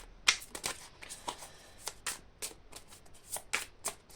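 Oracle cards being shuffled by hand to draw one, a series of crisp riffling bursts and soft card slaps repeating irregularly, close and fairly quiet with no talking.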